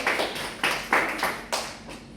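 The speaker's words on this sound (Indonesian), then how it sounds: "Tepuk tangan dulu." Students in a classroom clap in short separate bursts, about six quick sharp groups of hand claps at close range, with quiet gaps between them.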